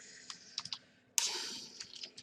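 Faint, sparse keystrokes on a computer keyboard while entering C++ code, a few separate clicks followed by a short burst of quicker typing.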